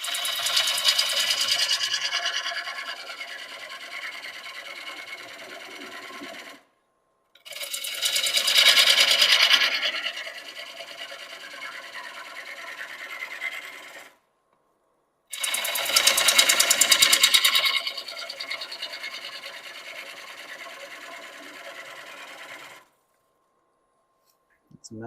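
Lathe cutting wet walnut and throwing big heavy shavings, heard as three separate passes of rough, buzzing scraping, each several seconds long and separated by silent gaps.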